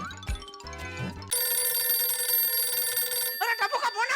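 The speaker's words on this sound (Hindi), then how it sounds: "अरे टप्पू का फोन आया।" A telephone rings with a sustained electronic trill, framed by brief bursts of music and a voice before and after.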